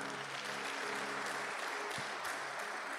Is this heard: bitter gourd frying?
no